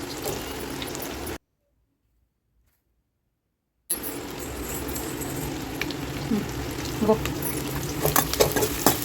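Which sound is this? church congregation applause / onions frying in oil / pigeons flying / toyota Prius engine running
onions frying in oil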